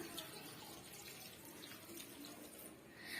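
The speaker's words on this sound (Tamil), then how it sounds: "நான் குறைவான அளவுக்கே நான் தண்ணி சேர்த்துக்கிறேன்" Water is poured into a cooking pot of greens, a close, steady splashing gush that runs without a break for a few seconds.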